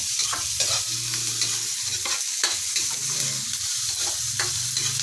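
Garlic, onion and tomato sizzle hard in a hot pan, a dense continuous frying hiss broken by repeated scraping stirs of the spatula, close and loud, with no talking.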